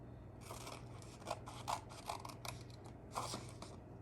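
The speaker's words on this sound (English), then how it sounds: "on that dotted line, you're going to cut. Try to cut right up to the end." Scissors snip through folded paper along dotted lines for a paper weaving craft, a series of quiet, crisp cuts in an irregular rhythm, close by in a calm room.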